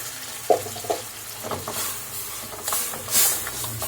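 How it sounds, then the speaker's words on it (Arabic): Tomato juice is poured into a hot cooking pot and sizzles, with soft splashes at first, then a steady frying hiss that swells near the end, close and with no voices. "اهي بنزل بعصير الطماطم الجميل"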